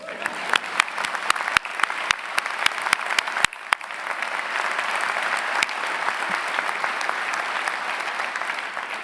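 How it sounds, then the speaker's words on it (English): Audience applause at a university presidential inauguration, a dense wash of clapping with sharp individual claps standing out early, steady and moderately loud before slowly thinning. "So I think all that's worth an applause."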